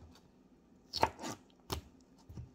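A knife cuts the skin off a pineapple in a few separate chopping strokes against a board. The scattered thuds and slices are quiet and close in an otherwise still room.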